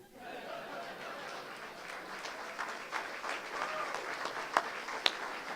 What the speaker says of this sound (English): Big round of applause for Mr. O.J. Anderson.